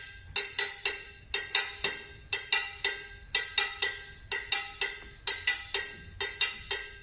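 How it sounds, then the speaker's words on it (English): Metal spoons drummed on a kitchen pot in place of a shime daiko, bright clanking strikes in a quick repeating Japanese rhythm pattern with ringing metallic overtones, close and alone. "A pot and some spoons."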